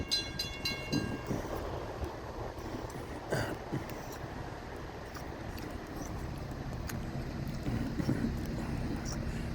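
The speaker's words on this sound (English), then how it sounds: "we got a northbound train. Florida East Coast Railway" A Florida East Coast Railway northbound train rolls past a grade crossing at County Road 206 in St. Augustine, Florida, a rumbling, rattling rush of railcars with crossing bell pings early and someone talking over it.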